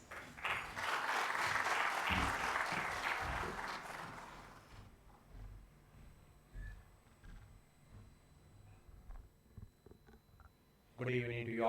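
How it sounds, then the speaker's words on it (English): Audience applause at a project launching ceremony for the Colombo Light Rail Transit in Sri Lanka, a dense steady clapping for about four seconds that then stops abruptly, leaving a quiet room with faint shuffling before a voice begins. "Your applause, please."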